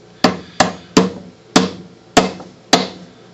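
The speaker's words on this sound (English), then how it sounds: "Probably going to use a big hammer." A big hammer pounds a tight motor bearing onto its shaft, six sharp metallic blows spaced roughly half a second apart, loud and close with short ringing decay.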